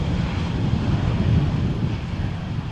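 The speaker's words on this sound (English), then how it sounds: "watching this Air Arabia Airbus and vacating the runway over here at the first exit" An Air Arabia Airbus rolls off the runway at Amsterdam Schiphol, giving a steady, moderate roar of jet engines heard from a distance.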